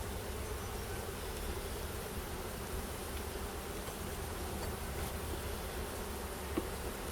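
Honey bees hum in a constant, droning buzz during a spring hive inspection, filling the whole stretch evenly, close by, with no talking.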